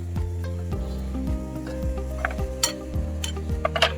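Cooking oil goes into a pan for frying pork, with soft sizzling, metallic utensil scrapes and clinks of cookware close by, in a quiet kitchen with no talking.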